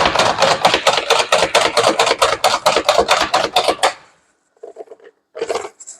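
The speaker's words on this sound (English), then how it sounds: "while I was chopping a very hot carrot" An OXO Good Grips plunger chopper chops a carrot in a rapid run of about a dozen sharp, evenly spaced clacks, followed by a pause and a few lighter taps, with a brief remark spoken.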